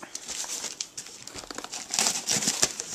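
Crinkling, tearing paper as a package is opened, with scattered rustles and louder crackles toward the end, close by and without speech.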